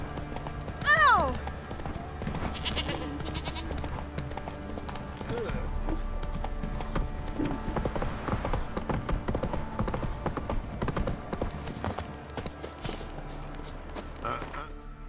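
Galloping horse hooves in The Witcher 3 drum in a fast, continuous rhythm, close and fairly loud, with a brief whinny near the start and game voices talking throughout.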